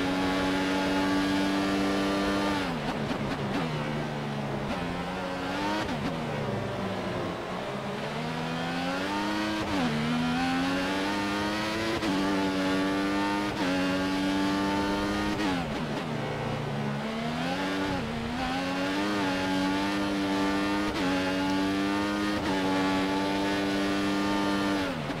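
Formula 1 race car engines from the video game F1 2014, practice session at the Canadian circuit, wailing loud and close with repeated upshifts and revs rising and falling throughout.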